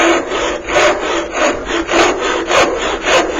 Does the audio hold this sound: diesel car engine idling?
no